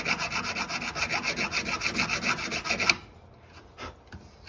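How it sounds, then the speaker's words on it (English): A coarse, rasp-like file scrapes back and forth over a rough metal edge of a billet dash piece, a steady run of about a dozen close, loud strokes that stops abruptly, followed by faint handling noises. "This one's a pretty rough file, so it's kind of like a rasp, I guess, and this edge is pretty rough here"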